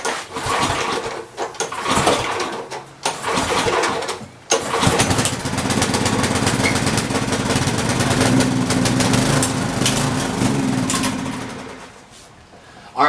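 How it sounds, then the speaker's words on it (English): A small generator engine is pull-started a few times with sputtering bursts, then catches and runs at a steady loud drone before cutting out, during a broken generator restoration. "we did get it to fire up and run very shortly"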